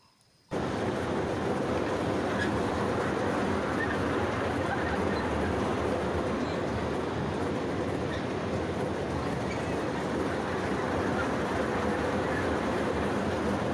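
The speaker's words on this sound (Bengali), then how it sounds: "এখন আমরা একটু ট্রেনে উঠে পড়লাম" Steady rumble of a moving train heard from inside a carriage, with continuous rattling and faint clacking of wheels on the track, no talking.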